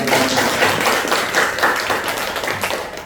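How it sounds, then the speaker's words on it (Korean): A church congregation gives a round of encouraging applause at a Sunday service, many hands clapping steadily and loudly as a dense patter that carries on throughout. "우리 한번 격려의 박수 하겠습니다"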